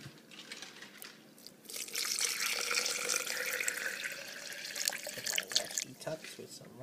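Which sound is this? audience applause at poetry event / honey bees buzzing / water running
water running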